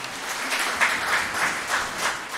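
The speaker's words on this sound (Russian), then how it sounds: "Аплодисменты." Applause at a meeting in Kazan city hall welcoming FIFA president Gianni Infantino, a brief, even round of clapping from a small group in an indoor room, moderately loud and steady.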